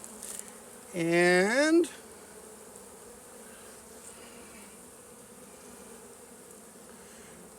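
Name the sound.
honey bees buzzing at an open hive frame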